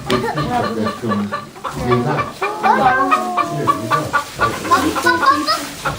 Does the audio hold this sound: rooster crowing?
yes